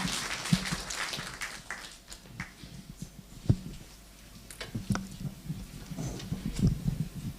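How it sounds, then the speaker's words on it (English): Audience applause at a university event at Meru University in Kenya, scattered and moderate clapping from a crowd with irregular sharp claps standing out, lasting several seconds without speech. "let us give our director a better clap as she sits"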